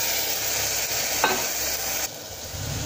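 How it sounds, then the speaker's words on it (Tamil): Peas tipped into a pan of tomato frying in separated oil for a vegetable kuruma, sounding as a close, even sizzle with soft stirring scrapes and a brief clink partway through, no voices. "இந்த டைமில் நீங்கள் பட்டாணி ஆட் பண்ணிக்கோங்க."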